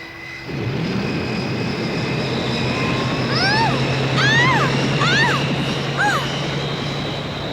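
In a Moomin cartoon, an aircraft engine starts up and settles into a steady, loud drone, while voices and chirping cartoon sounds play over it.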